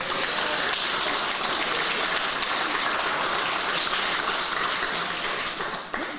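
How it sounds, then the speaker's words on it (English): Steady, full applause from a large audience at a Gaelic football club event, a thick wash of clapping holding evenly for about six seconds before starting to thin out. "Give them a round of applause"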